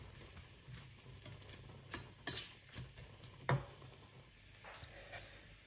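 Leftover turkey curry is stirred in a pot, soft scrapes and spoon clinks repeating irregularly over a faint low bubbling, quiet and close, with no talking.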